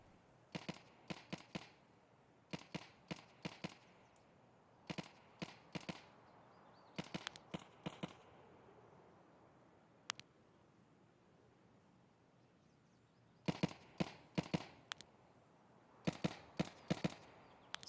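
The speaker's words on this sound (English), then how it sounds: "he's shooting towards me" Gunfire in Escape from Tarkov: several bursts of rapid, sharp shots come in clusters with quiet gaps between them, plus one isolated crack, moderately distant and crisp.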